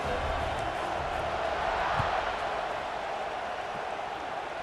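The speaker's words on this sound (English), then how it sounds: "this crowd is feeling themselves after that last drive" A stadium crowd in EA Sports College Football 26 roars in a steady, dense wash of cheering throughout, with faint commentary-like voices underneath.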